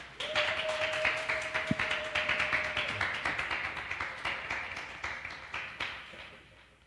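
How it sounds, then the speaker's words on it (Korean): Audience applause in a church as the senior pastor comes up to preach at a Sunday service, a sparse, rhythmic patter of moderate clapping that slowly thins out, with a brief tone early on. "나오실 때까지 큰 박수 부탁드리겠습니다"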